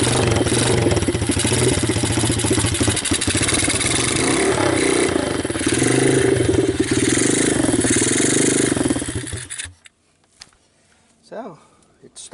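A 125cc pit bike with a freshly rebuilt carburetor starts from cold on choke and runs loud and rattly for about nine seconds before abruptly cutting off, leaving faint sounds.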